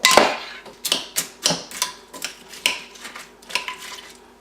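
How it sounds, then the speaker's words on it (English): A clumpy mixture being whisked in a bowl, heard as a run of sharp, irregular clicking and tapping strokes from the whisk against the bowl, close and fairly loud with no talk. "I guess it's supposed to just be whisked in."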